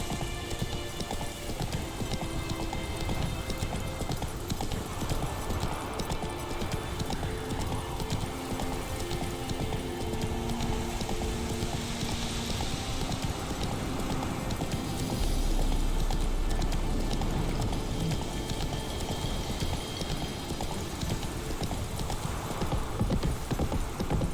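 Roach the horse gallops in The Witcher 3, hooves clopping in a fast steady rhythm through falling rain, with an occasional whinny and no talk.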